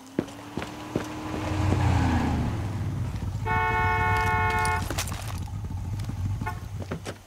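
A car in Far Cry 6 starts and drives off with a rising engine drone, then a clear sustained horn blast, followed by scattered clicks and thumps as it rolls on.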